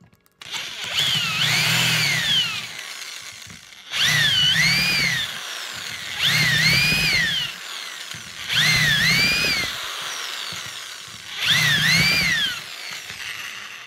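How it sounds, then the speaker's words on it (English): A power drill whirs through wood, drilling holes in five separate bursts, each a couple of seconds long with a rising and falling whine, separated by short pauses. Close and loud. "Easy to drill right through"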